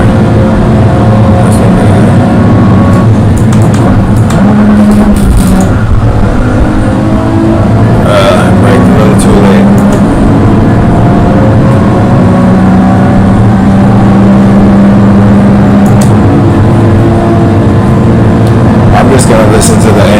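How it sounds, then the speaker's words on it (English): Racing-game car engine in Gran Turismo 7 revving and shifting through gears, a steady loud drone rising and falling in pitch for the whole stretch, with a voice talking over it. "Listen to the engine and change that."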